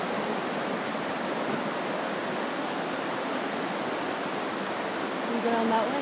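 Mountain creek near Klonaqua Lakes in the Alpine Lakes Wilderness, a steady broadband rush of flowing water filling the whole stretch, close and constant.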